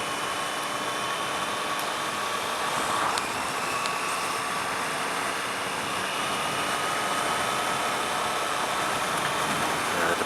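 A 2018 Triumph Street Triple R motorcycle engine under way while riding, a steady continuous hum with broadband wind rush, even and unbroken throughout.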